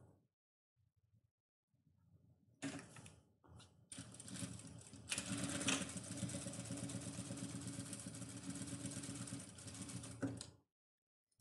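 A sewing machine stitches a side seam on fabric for an oral hygiene kit bag: a few brief starts, then a long, steady, close whirring run that stops abruptly near the end.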